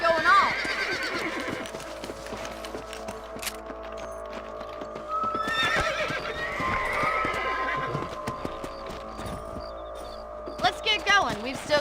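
Horses in the video game Red Dead Redemption whinny loudly several times over steady clip-clopping hooves, with a low hum and bits of talk between the calls.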